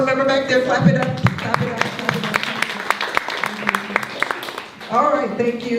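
Scattered clapping from an audience at a King County community candidate forum greets a school board member, steady and moderately close, while a speaker talks loudly over the applause for most of its length.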